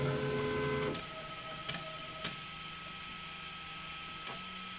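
A Dagoma DiscoEasy 3D printer whirs steadily as its head travels to the end and back, then the motor hum drops with a few soft clicks and ticks, heard close.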